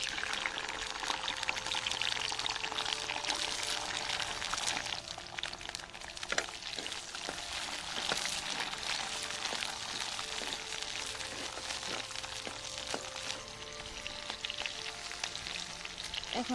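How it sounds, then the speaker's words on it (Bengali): Steady, dense sizzling of bean seeds frying in hot mustard oil, continuous and fairly loud throughout with no voices. "এখন আমি তেলের মাঝে এই সিমের গুটিগুলো দিয়ে দিব।"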